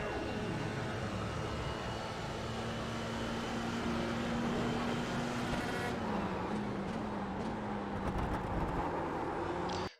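Dallara F3 race car engine in the iRacing game at Laguna Seca holds a steady high-revving drone, then drops pitch and shifts briefly as if braking and downshifting, fairly quiet and with no talk.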